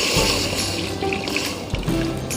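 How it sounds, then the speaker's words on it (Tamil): About two litres of water poured into a cooking pot while making pan-grilled chicken with mushroom sauce, a close, splashing, gurgling stream lasting a couple of seconds. "நான் வந்து இன்றைக்கி 2 லிட்டர் தண்ணி ஊற்றுறேன்."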